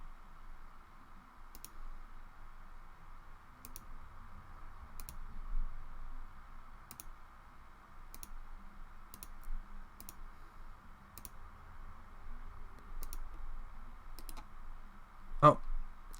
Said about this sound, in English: I right clicked because I'm used to right clicking to end, but Foundry uses a double left click